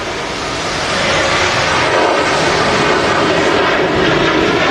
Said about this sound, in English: Go on, give it a rev. This sounds awesome, this aircraft.